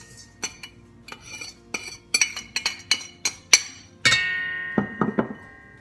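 Sugar is stirred into plain yogurt for birthday cake batter, with a spoon clinking sharply against a bowl in a series of distinct close taps, then a brief scraping rush and a few more clinks.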